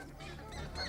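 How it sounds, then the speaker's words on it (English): Goose honking in an animated adventure episode, a brief, fairly loud honk that fills the short moment with no talk over it. "Tico, this is no time to play with geese."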